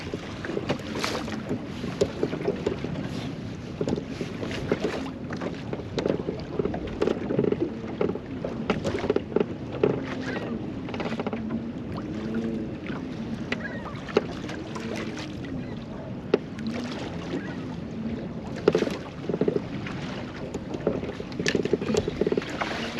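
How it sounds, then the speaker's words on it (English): Waves slap and wash against a small fishing boat on a lake, a continuous choppy rumble with irregular knocks against the hull, mixed with steady wind buffeting the microphone. "These waves are becoming a problem."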